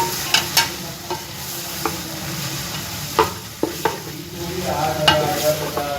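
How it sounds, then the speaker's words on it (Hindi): Shredded cabbage and carrots stirred together in a frying pan: a soft background sizzle punctuated by a dozen sharp, irregular spatula scrapes and knocks against the metal, close and clear. "अब इसमें हम डाल देंगे पत्ता गोभी, इसको भी मिक्स कर देंगे गाजर के साथ।"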